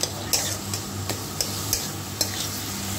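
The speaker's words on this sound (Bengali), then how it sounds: "আমি এখনই কচুর শাকটা এর মধ্যে দিয়ে আরও ভালো করে কষিয়ে নেব" Taro leaves stir-fried in spice masala in a pan, a steady sizzle with evenly spaced sharp spatula taps about every half second, close and moderately loud.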